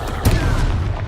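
Confringo fire spell exploding in Hogwarts Legacy, a short booming blast with a sharp crack up front and a rumbling tail lasting about a second.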